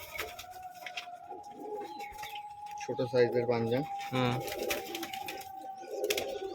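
Domestic pet pigeons cooing nearby in a few throaty bursts, while someone talks intermittently over a faint steady tone.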